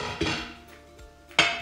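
Grated sweet potato goes into a pot of boiling water in a kitchen, with a utensil clattering and knocking against the metal pot in two sharp, close bursts, without talk.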